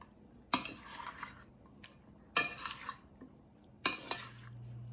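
Tortellini salad stirred in a bowl, giving three separate bursts of scraping and clinking a couple of seconds apart, close and fairly quiet, with low hush between them.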